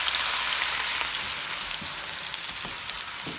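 Meatballs fry in a home kitchen pan, giving off a steady, bright sizzle with occasional pops and crackles and no voices.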